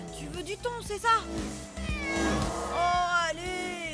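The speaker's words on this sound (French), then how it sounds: "C'est le chat de ma grand-mère." A cartoon cat meows several times in quick, rising and falling cries that grow into a drawn-out caterwaul, close and loud over a light musical background.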